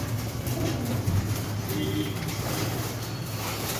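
Caged pigeons and other birds at a pigeon and poultry market in Kurumbur coo and rustle in low, repeated calls amid busy market ambience, with people talking nearby.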